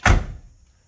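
A single solid thunk of a 1979 Camaro Z28 door shutting, loud and close, with a short fading resonance afterward.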